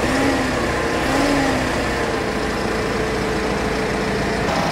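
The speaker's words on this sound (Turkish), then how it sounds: "evet traktörümüzü çalıştırdık arkadaşlar" A Deutz-Fahr 6135 C Warrior tractor with a 143-horsepower Euro 5 engine idles continuously, a low rumbling drone with an even, unchanging level throughout, fairly close and with no talking.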